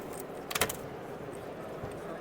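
Keys jangle briefly from a coin-operated luggage locker, a short metallic rattle burst standing out over steady background hum in a public locker area.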